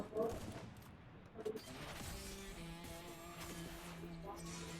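Sniper rifle fire in a mobile shooting game played with two fingers, a couple of sharp shots early on, followed by a steady mechanical hum and tones with a voice talking faintly.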